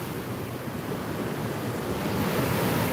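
Sea waves break and wash in a steady, dense roar of surf. The sound is continuous and fairly close, swelling slightly toward the end, with some wind mixed in.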